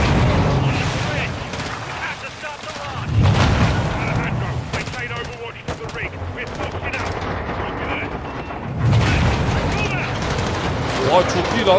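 A Call of Duty: Modern Warfare II firefight in dark waters, with close, loud bursts of automatic gunfire and booming explosions layered over constant battle noise and background voices.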